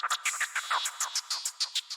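A quick, crisp hi-hat roll in rapid triplet groupings, bright closed ticks rattling evenly for a couple of seconds.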